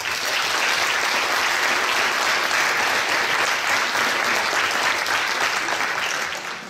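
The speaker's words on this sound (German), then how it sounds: "Applaus" Dense, steady applause from a large audience fills the hall at the opening of a European Youth Parliament session in Leverkusen, loud and continuous throughout before easing slightly at the very end.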